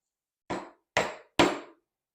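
Three sharp knocks of a mallet striking a chisel driven into wood, evenly spaced about half a second apart, close and crisp, each slightly louder than the one before.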